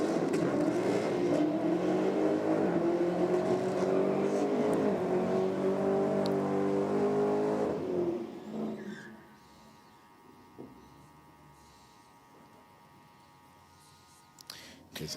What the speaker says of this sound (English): So Challenger driver definitely getting more confident in burnouts, I believe.